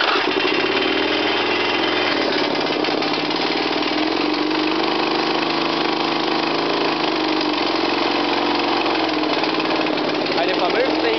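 A Briggs & Stratton small engine with a carburetor problem runs steadily and loudly throughout, a continuous close-up mechanical drone with rough, uneven idle texture and no pauses.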